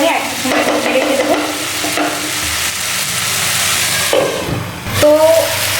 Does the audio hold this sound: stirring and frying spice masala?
yes